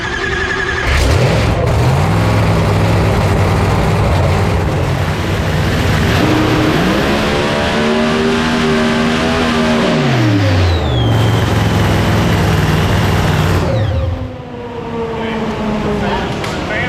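A 3500+ horsepower racing engine on a dyno pull, loud and close, roaring and revving up through rising pitches, dropping back and climbing again, with a brief lull near the end before it picks up once more.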